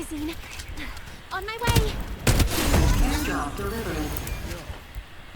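Gunfire in the battle royale game Farlight 84, a burst of rapid shots rising into sustained crackling fire, with excited voices talking over it throughout.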